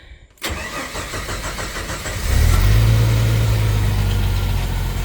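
The AMC 258 engine of a Jeep YJ cranks and catches after an oil change, then rises into a loud, steady rumbling rev with a deep low drone, close by and without talking.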